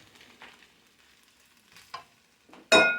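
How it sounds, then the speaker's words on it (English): Shrimp fried rice stirred in a pan, heard as a few soft scraping sizzles followed by one loud, close burst of frying and stirring near the end. "you want to keep stirring this because you want to get it all well combined, as well as you don't want it really sticking to the bottom of your pan"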